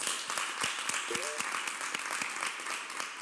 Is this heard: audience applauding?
yes